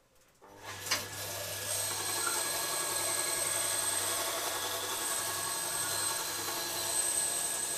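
A dull woodworking tool being sharpened on a powered sharpener, giving a steady, close mechanical whirring and grinding over a low hum that starts abruptly and runs unbroken.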